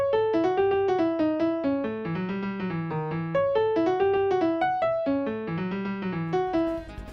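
A bright synthesized melody plays a catchy looping Deltarune leitmotif in steady notes over a bass line, with no voices.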